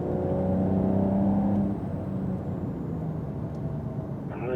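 Porsche Carrera GTS accelerating out of a corner on a wet track, its engine droning loudly from inside the car with a steady low harmonic whine that shifts pitch as it pulls through the exit.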